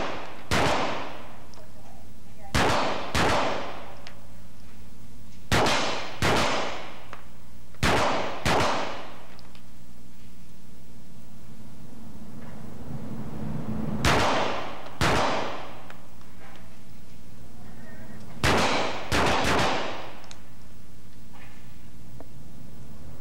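Gunshots fired into an angled bullet trap at a police firing range, sharp loud cracks in pairs and small clusters spaced several seconds apart over quiet room tone.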